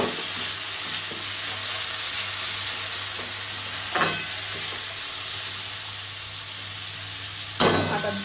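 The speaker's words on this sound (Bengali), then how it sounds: "একটু সর্ষে আর রসুন ফোড়ন দেবে, কাঁচা লঙ্কা দেবে।" Mustard seeds and garlic fry in hot oil as a tempering for a Bengali home dish, giving a steady dense sizzle throughout with two brief louder crackling bursts.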